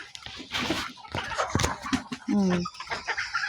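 Chickens clucking nearby in short bursts while feeding, with a person speaking over them in a casual, outdoor setting.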